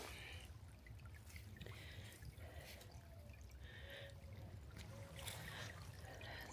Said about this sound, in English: There's a stream here that flows out into it.